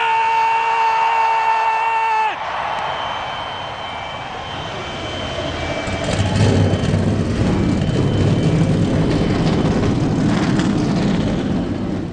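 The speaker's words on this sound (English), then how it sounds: "Driver, start your engine!" NASCAR Cup engines fire up at Atlanta in the NR2003 racing game: steady tones cut off, then a deep, loud engine roar swells and holds, rumbling continuously with no talk over it.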